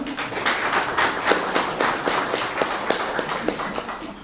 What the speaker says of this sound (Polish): Proponuję jeszcze raz duże brawa dla Pani.